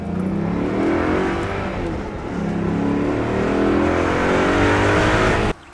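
A 2005 Maserati Quattroporte Sport GT's naturally aspirated 4.2-litre V8 revs and roars continuously, rising and falling in pitch, loud and close, before cutting off abruptly at the end.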